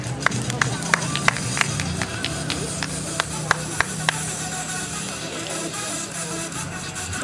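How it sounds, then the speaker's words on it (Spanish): Scattered, sparse clapping from a small audience at a graduation ceremony, a few distinct claps standing out over a low murmur of crowd noise and hum. "Un fuerte aplauso para la señorita"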